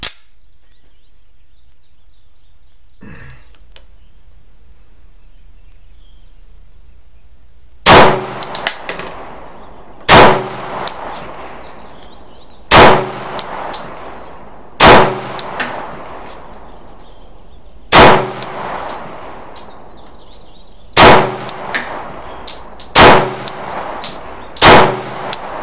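An RIA 1911 pistol fires HST ammunition at a range target, eight loud, sharp shots spaced about two to three seconds apart, each ringing out briefly. Before them there is a quiet lead-in with a faint clack.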